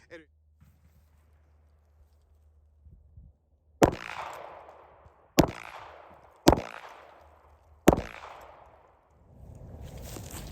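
Four loud, sharp gunshots on a shooting range with a shell catcher fitted to the firearm, spaced roughly a second or two apart, each with a ringing decay, over quiet background with faint handling noises.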